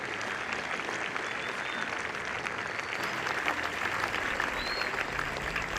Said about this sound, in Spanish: Un aplauso, por favor, muchachos